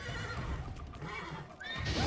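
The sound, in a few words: horse neighing in the video game Witcher 3: Blood and Wine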